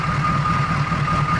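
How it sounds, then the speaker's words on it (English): A 6.2-litre diesel V8 in a 1985 Chevrolet K5 Blazer with dual exhaust idles steadily, a deep, even, pulsing rumble heard up close and alone. "this diesel rumble, you just don't get it anymore"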